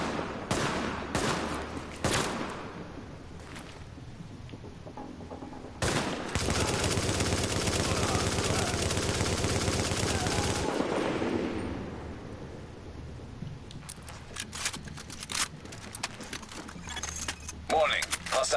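Gunfire in The Division on PS4 Pro: sharp bursts of shots, then a long sustained stretch of rapid, loud firing that fades out, followed by scattered single shots. Someone talks over some of it.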